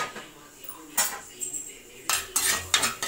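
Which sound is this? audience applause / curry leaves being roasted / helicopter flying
curry leaves being roasted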